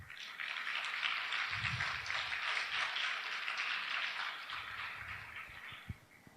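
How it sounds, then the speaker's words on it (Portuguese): A congregation applauds steadily in a church for several seconds, a dense, even wash of clapping with faint low rumbles underneath, tapering slightly near the end. "abra seu coração e aplauda Jesus Cristo"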